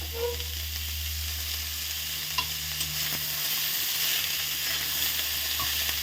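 Chopped bottle gourd and cabbage sizzle loudly in hot oil in a home kitchen, with a steady close crackle and stirring scrapes through the whole stretch and no talking.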